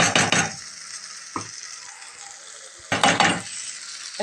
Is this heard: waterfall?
no